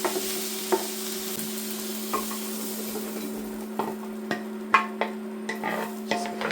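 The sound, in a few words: fried onion, mushroom and carrot moved from pan to slow cooker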